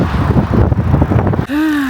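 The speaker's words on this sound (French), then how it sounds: "Je sais même pas si vous m'entendez bien avec le vent et tout." Wind gusts buffet the microphone in a rough, rushing roar while crossing a long bridge on a hot day, then cut off abruptly and give way to a steady tonal hum near the end.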